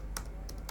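Typing on a computer keyboard, three quick crisp key clicks spaced evenly over a faint steady background hum.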